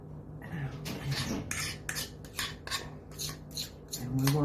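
Mashed bananas scraped into a mixing bowl with a utensil for banana nut chocolate chip bread, a series of short, soft scraping strokes against the bowl, close and fairly quiet.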